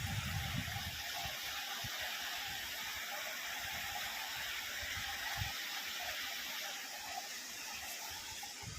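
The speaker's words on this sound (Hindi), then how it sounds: "फाइनली आमे पहुंची गलु दोचारी झरना" Dochari waterfall in the rainy season, carrying a heavy flow of water, gives off a steady, even rush of broadband roar that stays at a moderate, somewhat distant level throughout, with no voices.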